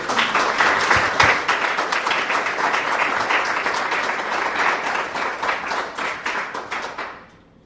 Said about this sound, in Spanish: Dale un fuerte aplauso a Jesucristo por tu vida